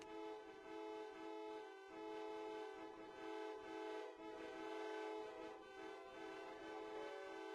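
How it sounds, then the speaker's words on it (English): Car horns sound faintly in the distance outside, a sustained blaring tone that carries on without a break and pulses slightly, with no one speaking. "There are cars honking in the distance."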